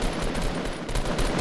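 Rapid automatic gunfire in the video game Fortnite during a squads match, a dense, continuous burst of loud shots filling the whole moment with no pause.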